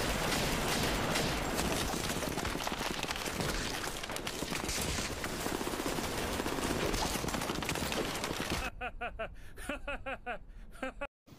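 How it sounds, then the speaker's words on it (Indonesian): Dense, relentless gunfire pours at the vampire Alucard in a long unbroken fusillade, then stops abruptly and gives way to a short burst of laughter. "langsung mengeluarkan senjata andalan mereka dan menembaki Alucard secara membabi buta"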